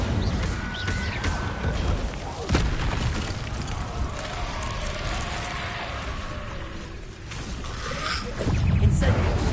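Incendio fire spell exploding in a video game, heavy booming blasts with a sharp burst near the start and a deep rumble swelling again at the end over continuous game noise.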